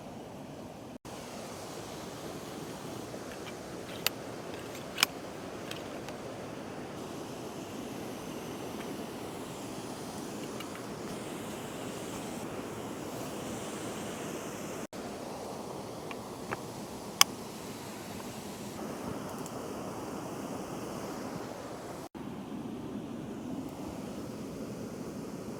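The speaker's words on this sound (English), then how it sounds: "that hiss isn't the gear. It's this beautiful waterfall coming into the picture." A waterfall in the Scottish autumn countryside gives off a constant, even hiss of rushing water, steady and moderately faint throughout with only a few small clicks nearby.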